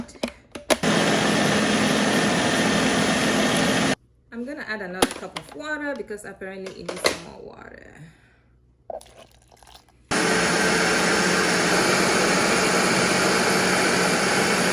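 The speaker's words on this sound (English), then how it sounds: "Now we are going to blend it." A blender roars loudly blending soybeans, then cuts off while a person talks over small clinks and water sounds, and the motor whirs back up again.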